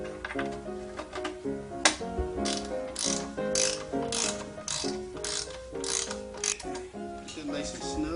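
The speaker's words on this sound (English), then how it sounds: "I'll start installing the bottom bracket cups." Bicycle bottom bracket cups being threaded in with a ratchet, a close series of quick metallic clicking bursts in a steady back-and-forth rhythm, with brief pauses between strokes.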